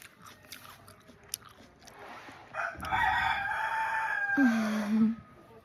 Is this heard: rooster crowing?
yes